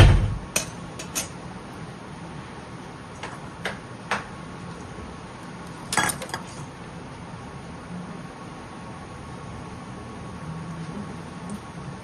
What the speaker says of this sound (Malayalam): അതെ കടുക് പൊട്ടി തുടങ്ങി